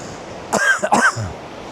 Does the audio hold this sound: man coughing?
yes